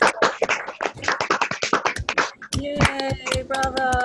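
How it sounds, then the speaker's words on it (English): Online audience applause during a live poetry reading held over a video call: a dense run of quick, sharp claps from many participants, followed by brighter tonal sounds layered over the scattered clapping. "I just wanna make sure we get our applause in right now"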